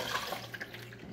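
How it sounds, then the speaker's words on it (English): Water pours and splashes as onions are drained in a kitchen, a soft continuous trickle with small drips over a low steady hum. "Next, drain your onions,"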